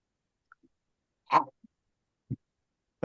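One short, sharp sneeze bursts out in near silence, followed by a couple of faint breaths or small noises.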